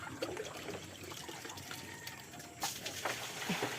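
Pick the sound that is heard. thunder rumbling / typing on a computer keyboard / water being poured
water being poured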